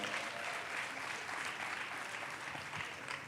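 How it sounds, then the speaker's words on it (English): An audience at a professional development general assembly claps in a steady, continuous wash of applause, heard at a distance and fairly faint, with some voices mixed in. "Hold the applause."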